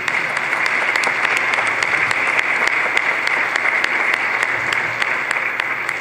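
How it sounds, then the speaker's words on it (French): Church congregation at a Mass applauding a team of organizers, sustained even clapping at a constant loud level throughout with crisp individual claps standing out. "Alors, je pense qu'on peut les applaudir."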